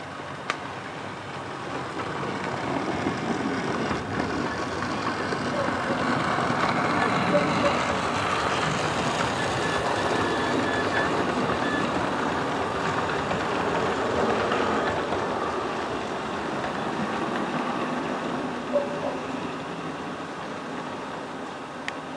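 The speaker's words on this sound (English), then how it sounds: "And the Western train pulling in as well for its stop." A train on a model railway layout pulls into a station stop, giving a steady, low rumble that swells gently and then eases off over about twenty seconds. There is no talking.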